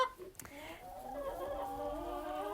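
Hens clucking and murmuring in steady overlapping calls inside a hen house on a farm, with a brief sharp knock near the start, close and continuous throughout.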